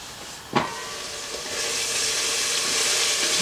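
Spices mixed and simmering in a pan for home-made garlic chicken: a steady broadband sizzle and hiss that swells and thickens, opened by one sharp scrape or clatter near the start.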